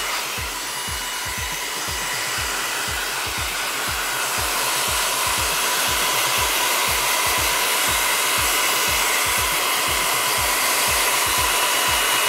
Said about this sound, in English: I'm now going to take a hairdryer.